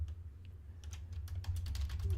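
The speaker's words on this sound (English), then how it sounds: "I started typing a little too fast before it asked for my username" Quick clicking keystrokes on a computer keyboard, faint irregular taps that grow denser toward the end over a low steady hum.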